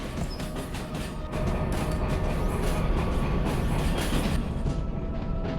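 A freight train in Derail Valley rumbles steadily along the rails, a broad continuous mechanical roar with faint clanks, growing slightly louder after the first second and holding constant with no voices.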